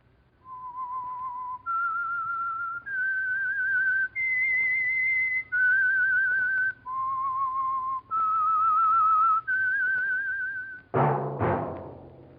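A clear whistled melody of sustained, steady notes stepping up and down in pitch, alone and close, the opening theme of the 1947 radio drama The Whistler, ending with a brief noisy burst.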